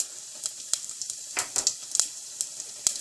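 Cumin seeds crackle in about three tablespoons of hot oil for a Punjabi paneer tikka masala tempering: sharp, scattered pops and spits over a faint continuous sizzle, close and fairly quiet, with no voices.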